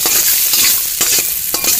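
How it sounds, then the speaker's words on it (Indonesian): Shallots and garlic frying in a little oil, a dense continuous sizzle with repeated scraping stirs of a utensil in the pan, close and loud, with no voices. "ini bawang merah dan bawang putihnya kita goreng dulu"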